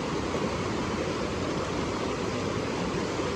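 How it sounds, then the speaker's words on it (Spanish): A river rushing downhill in a steady, broad roar of churning water, close and unbroken throughout. "Miren aquí cómo baja el río"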